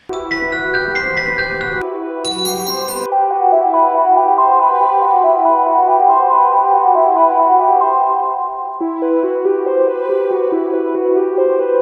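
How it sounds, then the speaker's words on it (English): Dark synthesized bell tones ring in sustained, shimmering layers, with a bright bell strike early on before settling into a smooth, mellow chord that shifts near the end. "I wanna find like a cool, like bellish type of texture"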